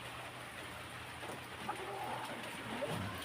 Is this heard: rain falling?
yes